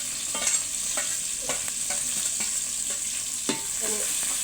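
Ginger, garlic, green chili and curry leaves sizzle in a hot pan, with a steady frying hiss broken by periodic scraping strokes of a stirring spoon, close and alone.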